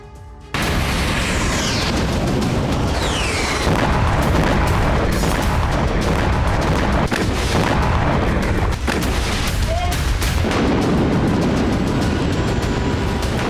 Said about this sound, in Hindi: ऐसा ब्लास्ट जैसे कोई बहुत बड़ा बम फटा हो